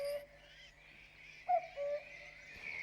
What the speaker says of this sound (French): ça doit être une chouette ou un hibou